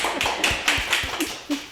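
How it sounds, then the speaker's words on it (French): A small group claps in a short, uneven burst of applause, close by and fairly loud, with a handful of distinct hand claps rather than a big crowd. "Super, bravo, on peut applaudir."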